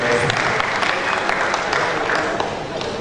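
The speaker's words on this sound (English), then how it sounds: "A big clap to these 2 players, a big clap to these 2 players." Sustained applause fills the hall for two players at the Africa Youth Scrabble Championship gala, a steady dense clatter of many hands with faint crowd murmur beneath.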